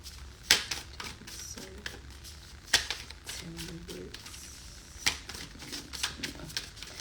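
A love oracle card deck shuffled by hand, with soft papery riffles and a few sharp snapping clicks at intervals over quiet room tone.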